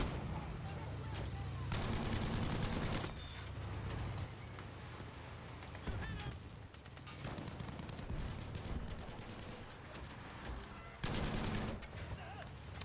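Gunfire from the video game Battlefield V crackles in bursts and volleys, several loud broadband clusters separated by busier, rattling stretches, with a distant battlefield din underneath.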